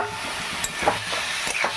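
Fried cauliflower pieces are stirred into a pan of spices and ground garam masala, giving a steady sizzle broken by several scraping strokes of the spoon.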